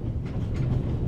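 Inside a moving passenger train, a steady low rumbling drone with soft periodic swells, close and continuous, with no voices.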